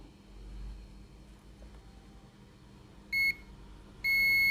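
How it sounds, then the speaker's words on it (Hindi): A multimeter gives two short, sharp continuity beeps while probing the ground points of a Samsung A04 phone board, heard over a quiet background hum. "चलो एक साइड पे ये बीप आ रहा है, दूसरे साइड दिखाओ।"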